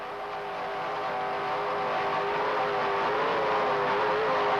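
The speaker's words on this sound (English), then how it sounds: "Just listen to those JPS engines, 2 575 horsepower" Steady, loud droning roar of 1994 offshore powerboat racing engines, 2,575-horsepower JPS engines, a continuous broadband drone with slowly shifting tones that holds throughout.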